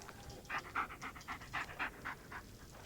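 A dog pants rapidly and rhythmically in the Blair Witch video game, each breath a soft, fairly faint huff over a low, hissing forest ambience.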